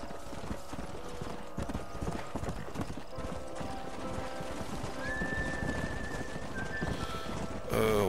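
Horses in the Red Dead Redemption video game gallop with steady clip-clop hoofbeats and let out a clear neigh, with game sounds around them and no talk over the hooves.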